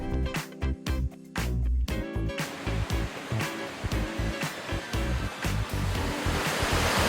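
Ohko Falls, a large 88-metre waterfall on Yakushima island, roars steadily and loudly nearby, with buffeting wind gusts hitting the microphone.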